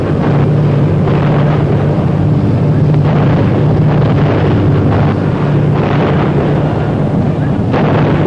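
Continuous loud roar of rapid anti-aircraft gunfire and booming blasts defending a British convoy at sea, with wind-like rumble, dense and unbroken throughout.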